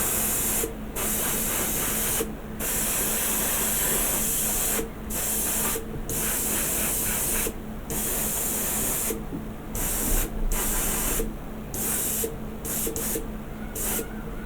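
An aerosol spray can hisses in steady, loud close bursts with short pauses between them while the main body of a Star Trek Enterprise Into Darkness scale model is spray painted.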